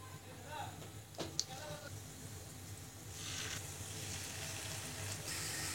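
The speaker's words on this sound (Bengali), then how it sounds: "এবার আমি গরম তেলে ছোট ছোট ডিমের পাকোড়া ভেজে নিব" Egg pakora batter fries in hot soybean oil in a frying pan, giving a steady, faint sizzle with an occasional light clink, and no talk.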